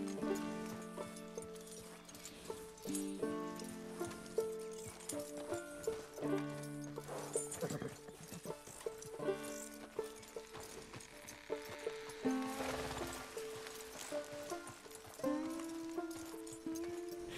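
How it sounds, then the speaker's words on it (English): Steady clip-clop of hooves from a large walking horse in the video game Red Dead Redemption 2, mixed with background music and game effects, moderately loud throughout. "This horse is massive"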